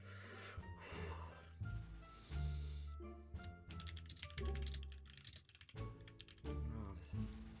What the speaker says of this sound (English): Let me just do a typing test real quick.